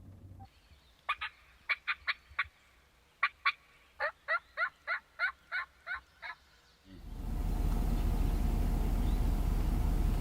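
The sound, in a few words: wild turkey gobbling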